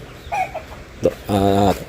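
A few chickens cluck close by in short bursts, ending in a longer, louder drawn-out call from a rooster or hen.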